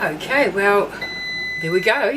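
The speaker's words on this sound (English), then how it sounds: "You can hear the timer going off" An air fryer timer, baking a chocolate cake, gives a single steady electronic beep lasting under a second, clear and close, sitting in a pause between a person's casual remarks.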